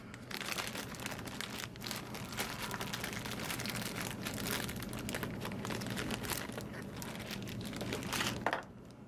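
A plastic bag crinkles and rustles continuously for about nine seconds as model-kit parts for a 1932 group build are pulled out of it, close and fairly steady, with a sharper crunch near the end.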